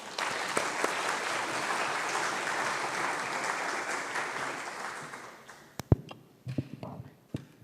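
Audience applause welcoming two panel speakers, Sister Veronica and Emanuela, at a church panel on belonging; dense steady clapping fills most of the clip, then thins to a few scattered claps as it dies away.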